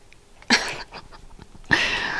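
Two short meows from a cat, one near the start and a longer one toward the end, with faint quiet background between.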